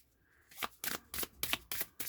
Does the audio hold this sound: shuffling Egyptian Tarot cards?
yes